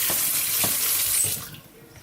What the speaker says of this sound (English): So I'm giving this a last rinse right before I put it into the boiling water.